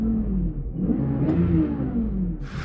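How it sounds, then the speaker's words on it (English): A V12 car engine that has been off the road for about ten years starts and revs, with a loud, close mid-pitched roar that swells and falls alone. "That famous V12 starter."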